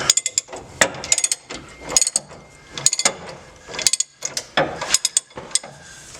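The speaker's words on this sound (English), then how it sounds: "the size is 13/16 for these 3 bolts on the back side here. I broke one loose, I got 2 more to go" A ratchet cranking on the 13/16 track bar bolts of a 2018 Ford F250, sharp close clicking in quick repeated bursts with short pauses between strokes, loud and alone with no talking.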